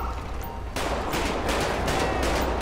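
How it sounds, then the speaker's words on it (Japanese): Rapid, dense gunfire erupts suddenly in the video game GTA 5 with the LSPDFR police mod, on a freeway, and continues as a loud, sustained barrage of overlapping shots. "急に発砲し始めてる。"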